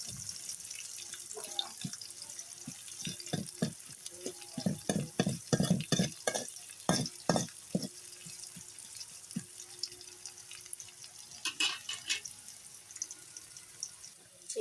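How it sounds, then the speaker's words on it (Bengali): Chopped onions go into hot oil in a home kitchen pan, giving a bright sizzle with a run of stirring and scraping clatters that fade to a gentler steady frying. "এবার দিয়ে দিব পেঁয়াজ।"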